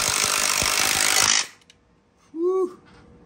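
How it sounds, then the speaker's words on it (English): A power drill drives a screw into a window frame during a bathroom gut, giving a loud, steady buzzing whir for about a second and a half, then stopping abruptly, followed by a brief voice. "Okay, so we're going for the first screw here."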